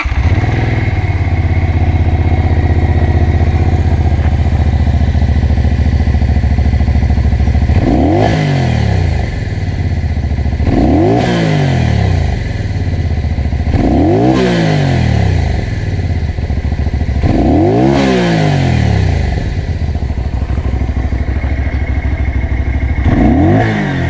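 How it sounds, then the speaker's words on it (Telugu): A Keeway K Light 250V motorcycle engine idles steadily, then is revved repeatedly, five sharp rising-and-falling bursts spaced a few seconds apart, loud and close. "ఇప్పుడు అసలు దీని ఇంజన్ అనేది ఆన్ చేద్దాం."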